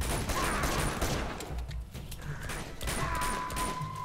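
Gunfire in Uncharted from the Nathan Drake Collection, a dense stream of game shots and mechanical clatter over a steady backdrop of jungle ambience, with a brief lull in the middle before the firing picks up again.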